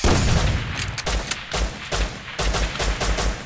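Rapid automatic gunfire in the video game Rust during a base raid, dense overlapping bursts of shots close and loud, firing almost continuously with short gaps.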